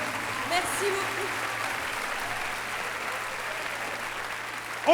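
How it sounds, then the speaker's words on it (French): An audience at the Olympia applauds steadily throughout, a dense even wash of clapping from a large hall with a low hum beneath it. "On les applaudit très très fort"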